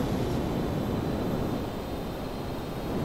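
A plane taking off in the video game GTA 5, heard as a steady, loud broadband engine roar that holds evenly throughout with no pauses.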